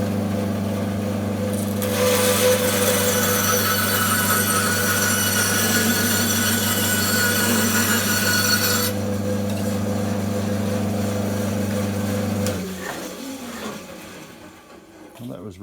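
A 12-inch bandsaw cutting timber: a steady loud motor hum with a bright rasping cut layered on top for several seconds, then the cut stops and the blade winds down.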